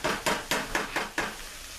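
Peppers, onions and tomatoes sauté in a pan as a spatula scrapes through them in six quick, evenly spaced strokes over a faint sizzle.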